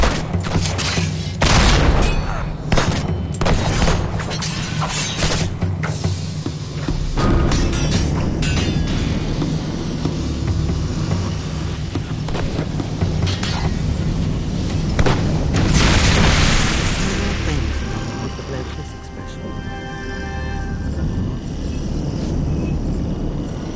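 Repeated cannon fire booms in the Xbox 360 game Fable 2, a loud barrage of deep blasts, dense at first and then merging into a sustained roaring rumble with a swelling whoosh near the end.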